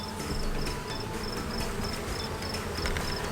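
Worker honeybees buzz steadily on hive frames in a dense, close drone, with a faint repeating higher tone running through the hum.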